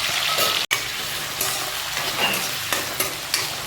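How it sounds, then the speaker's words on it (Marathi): Raw potatoes sizzle and fry loudly in hot oil with cumin, green chili and ginger, the steady crackle broken by a brief silent gap and a few stirring scrapes, heard alone up close. "तेलामध्ये जिरं घातलेलं आहे, हिरवी मिरची घातलेली आहे, आलं घातलेलं आहे आणि आता बटाटे पण घातलेले आहे."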